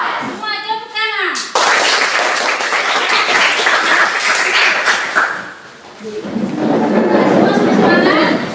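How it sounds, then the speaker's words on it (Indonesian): A classroom of students claps hands together, a loud, sustained burst of applause that swells, briefly dips, then rises again, with a voice heard just before the clapping starts. "Semua tepuk tangan."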